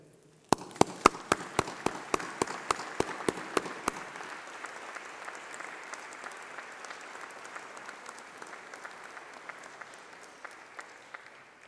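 Audience applause at a university graduation ceremony, opening with a run of sharp, evenly spaced claps and then swelling into steady, dense clapping from a large crowd that carries on to the end.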